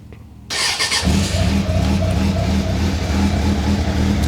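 A 1997 Suzuki GSF600 Bandit motorcycle with the exhaust baffle fitted starts up close by, its engine catching after a brief crank and settling into a steady, throbbing idle.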